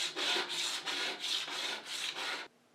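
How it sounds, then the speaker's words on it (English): Debris being scraped off the surface of a Singer 301A sewing machine cabinet, seven rhythmic rasping strokes close up, each a gritty rub, ending abruptly in near silence. "we can see that it is scraping the surface debris."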